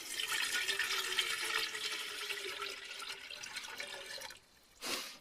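Filtered water poured into a Farberware 8-cup Yosemite percolator for off-grid coffee, a steady splashing stream running for several seconds, then a pause and a brief final splash.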